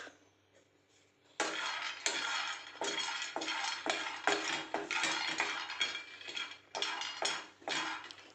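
Peanuts roasting in a pan for curry-leaf chutney: dry, rattling scrapes and clinks as the nuts are stirred and tossed against the metal, in repeated bursts after a quiet opening.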